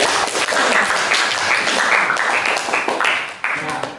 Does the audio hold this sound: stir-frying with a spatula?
no